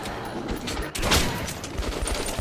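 A shotgun fires during Metro gameplay amid dense, continuous gunfire and chaotic combat noise, with loud overlapping blasts close up and no clear gaps between shots.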